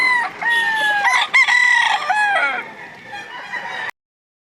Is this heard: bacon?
no